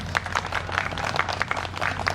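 Audience applause for students at a policy fair, a moderate room of scattered hand claps with irregular sharp hits, fairly quiet and without talk.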